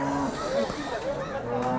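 A cow lows at a busy cattle market, a long droning moo carried over crowd chatter and background bustle.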